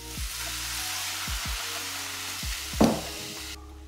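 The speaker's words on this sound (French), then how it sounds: "On va pouvoir déglacer au vinaigre." Shallots in a hot pan deglazed with cider vinegar give a soft, steady sizzle and hiss, with a few clicks and light stirring knocks from the utensil.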